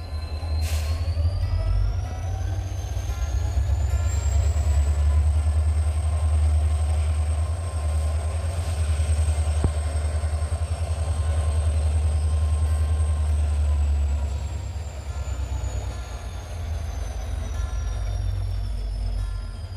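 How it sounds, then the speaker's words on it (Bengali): A train rumbles in at a station with a deep, continuous low roar and a long metallic squeal rising and falling above it. "ট্রেন ঢুকে গিয়েছে একবার দেখিয়ে দিচ্ছি আপনাদের"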